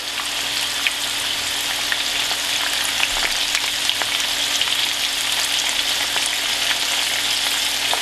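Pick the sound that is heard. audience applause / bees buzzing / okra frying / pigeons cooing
okra frying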